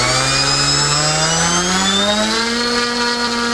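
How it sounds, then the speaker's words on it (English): A LotusRC T380 RC plane motor winds up a two-bladed propeller at very low power, giving a steady, loud, close whine whose pitch climbs smoothly and holds throughout. "What you can see when the two-bladed prop winds up, it actually draws out of the motor quite a bit."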